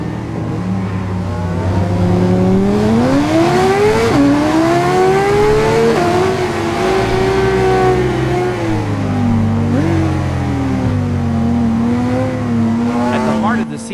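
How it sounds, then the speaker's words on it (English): A 2018 Honda CBR 600RR in the Ride 5 racing game, its 599 cc liquid-cooled inline four-cylinder engine revving continuously and loudly, pitch climbing and dropping through gear changes beneath a narrating voice. "At the heart of the CBR 600RR is a 599 cubic centimeters liquid-cooled inline four-cylinder engine."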